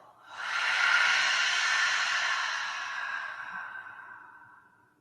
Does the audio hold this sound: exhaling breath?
yes